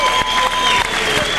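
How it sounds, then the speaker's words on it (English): A crowd at a 1995 Toughman boxing competition applauds the fighters in a dense, continuous burst of clapping, loud and close with a voice speaking over it. "Crowd gives each fighter another round of applause."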